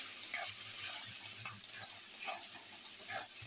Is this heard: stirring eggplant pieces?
yes